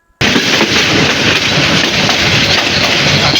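The Brahmaputra Express rolls along the rails in Bangladesh, a loud, dense, steady rumble and rush starting abruptly and continuing without pause.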